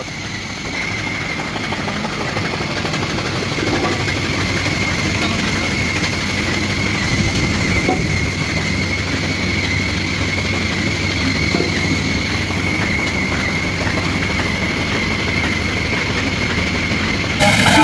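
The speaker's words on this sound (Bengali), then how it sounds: "ভিওয়ার্স এইটা হচ্ছে সেই পালভ্রাইজার মেশিন" A pulverizer machine used for polishing corn, husk and rice chaff runs with a loud, continuous mechanical roar and rattle, steady throughout.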